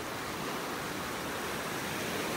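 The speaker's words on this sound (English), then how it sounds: "It just seems the sounds of the waves and the smells, it just kind of clears your head" Ocean waves washing onto a beach in North Naples, Florida, heard as a steady, dense surf roar with no break or voices.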